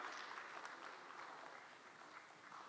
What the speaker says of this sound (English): A round of applause for them as they come.